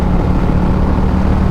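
An Indian Challenger Powerplus motorcycle fitted with Lloydz Garage performance 530 cams accelerates from about 3,500 rpm, a loud, steady, deep engine roar filling the whole moment close up.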